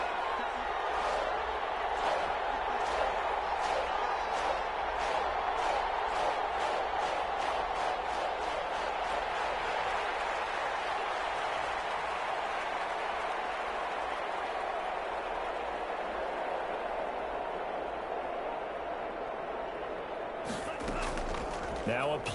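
A stadium crowd in a PS4 American football game roars in a sustained, dense wash of cheering with rapid rhythmic claps early on, then swells toward a big third down, with commentary talking over it.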